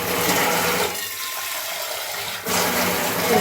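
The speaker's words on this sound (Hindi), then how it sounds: "अब मैं ले लेती हूँ इसके अंदर पानी" Water splashes and gushes steadily into a tea-making pot in a home kitchen, close and loud, with a brief softer stretch midway before the flow strengthens again.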